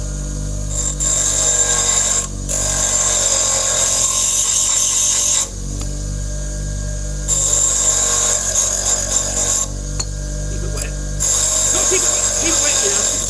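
Small bench grinder sharpening a tool with water, a loud close steady whine cut by several short pauses as the blade is lifted and reapplied, with talk in places.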